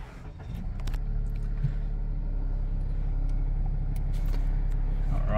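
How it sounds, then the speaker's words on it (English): A 2021 Toyota Yaris Cross GXL engine turns over and settles into a steady low idle rumble heard from inside the cabin, with a few faint clicks over it. "push this little button to start the car"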